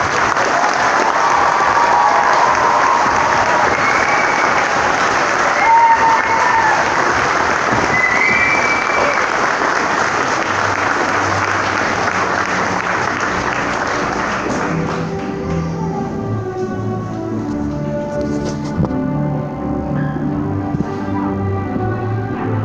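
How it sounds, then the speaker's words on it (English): A large audience at a school graduation applauds loudly and steadily for about fifteen seconds, then the clapping thins out as music begins. "One more round of applause."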